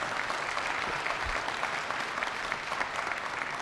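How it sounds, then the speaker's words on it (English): An audience claps steadily in a dense, continuous patter of applause that stays even throughout. "So please give him a round of applause."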